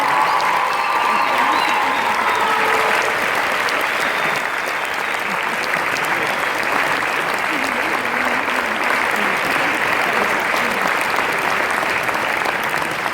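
Sustained applause from a large audience fills the room after a children's cantata performance, steady and dense throughout with no pauses.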